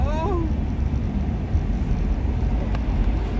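A deep, steady Camaro ZL1 engine rumble drones throughout, heard close from inside the car, with a brief voice near the start.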